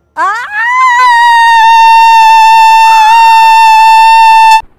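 On a Pakistani TV show, a young woman lets out one long, very loud scream held steadily for over four seconds, close to the microphone and alone, before cutting off abruptly.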